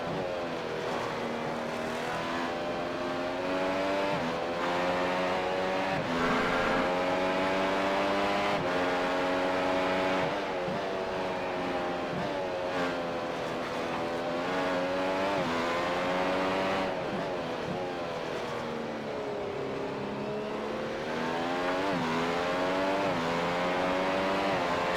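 A Formula-style race car in the iRacing World Championship Grand Prix Series at Imola screams at full throttle, a steady high-pitched engine wail rising and falling through gear changes, loud and continuous with no talk.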